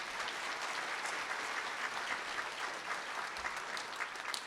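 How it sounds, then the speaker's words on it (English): Applause fills a school commencement ceremony for a memorial scholarship recipient: dense, continuous clapping from a sizable audience, steady and fairly distant, with no voices over it. "you can still clap for William."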